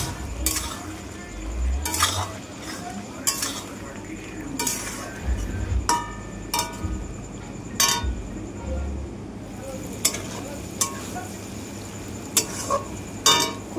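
Curry for chanda fish is stirred in a pan, heard as a series of sharp metallic spoon clinks and scrapes at uneven intervals over a low background rumble.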